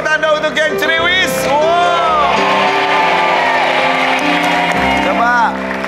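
Studio audience on the Family 100 game show cheering and whooping loudly, a dense sustained roar of crowd noise with shouts lasting several seconds, with music underneath.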